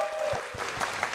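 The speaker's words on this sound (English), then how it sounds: "Can we have a round of applause for Dr. Melanie Samuels" Audience applause at a Campaign Against Hunger event in New York, a steady patter of clapping from a crowd throughout.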